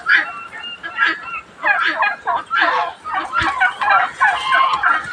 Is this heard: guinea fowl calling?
yes